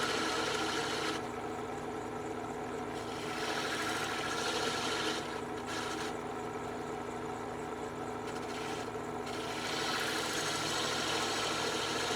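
Bowl gouge cutting wood on a lathe while turning a cylindrical box, a continuous close rasping scrape over the spinning machine's hum, with brief pauses and shifts as the tool moves.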